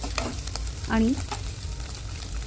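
Boiled potato sautés in a pan, a soft sizzle under a few scraping stirs of a spatula, close and fairly quiet.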